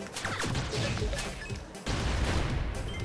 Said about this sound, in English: I don't remember the explosions being that big in the last one.